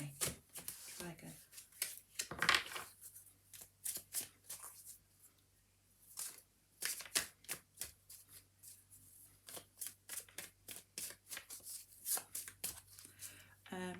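Playing cards shuffled close by in a quiet room, a run of crisp riffling flutters and taps, some in quick bursts and others spaced apart, with brief pauses between them.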